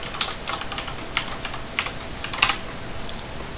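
A password is typed on a computer keyboard: a quick run of light, uneven key clicks with one louder cluster of taps, close and alone.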